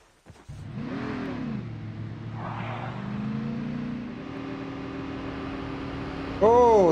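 Vehicle engine from a truck in the Call of Duty Mobile video game, a steady droning hum that rises and falls in pitch, with a brief louder burst near the end and no talk.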